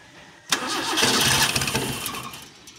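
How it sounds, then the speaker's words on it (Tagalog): A motorcycle engine with a misfire is cranked, briefly catches and roars with uneven sputtering, then fades off without staying running; the sound is close and loud. "Ayan, ayaw magtuloy ng andar."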